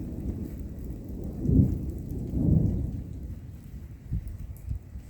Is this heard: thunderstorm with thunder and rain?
yes